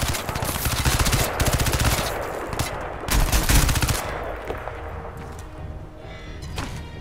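Sustained automatic gunfire in Crysis 2 rattles loudly in rapid bursts, with brief pauses and heavier thuds, then tapers into scattered quieter shots and game ambience.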